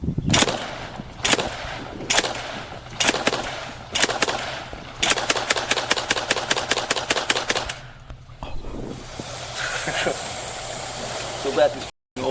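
Bursts of fully automatic fire from a modern select-fire rifle crack out loud and close in a rapid rhythm of short volleys, then one long sustained string near the eighth second, followed by fading echoes and a steady hiss.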